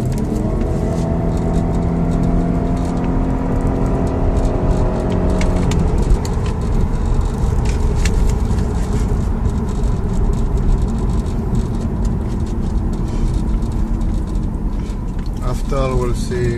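Steady engine hum and road rumble from an Audi car with a misfire and vibration fault, driving and shifting gears, with tonal gear whine early on and someone talking over the drive.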